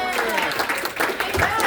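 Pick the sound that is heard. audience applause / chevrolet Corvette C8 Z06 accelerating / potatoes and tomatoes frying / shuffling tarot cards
audience applause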